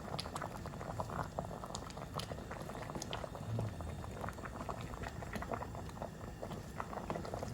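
Cabbage soup with chayote, onions, scallions, thyme and mushrooms simmering in a pot, a quiet steady bubbling with small pops and patters throughout.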